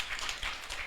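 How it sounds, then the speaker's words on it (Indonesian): Members of a church congregation at an Ascension Day worship service clap briefly for God, giving a short burst of several sharp, uneven claps at moderate volume. "Yang percaya berikan tepuk tangan untuk Tuhan."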